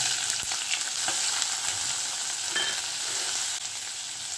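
Onion and cumin seeds sizzle in hot oil in a wok, a loud, steady hiss close by, broken by a few scraping stirs and small knocks, with no one talking.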